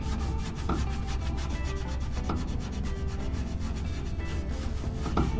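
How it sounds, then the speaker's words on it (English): A Scotch-Brite pad with wax is scrubbed over the rusty surface of a Ford F100 truck steering column, producing a continuous, loud, close abrasive rubbing in a fast back-and-forth rhythm, with no voices. "I'm using a little bit of Scotch-Brite and the wax against it"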